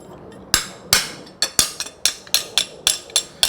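Sharp metallic taps from a pritchel punching nail holes in a forged French hind horseshoe at the forge, about nine separate strikes in a loose, uneven rhythm, close and ringing, some holes getting a second tap.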